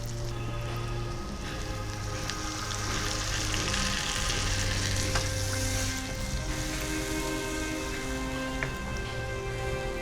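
Water poured into sizzling fried spice paste for an outdoor catfish curry, producing a loud, dense, continuous hiss and crackle that stays even throughout, no talking.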